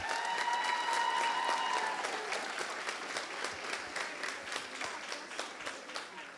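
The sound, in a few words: concert audience applauding the 8th graders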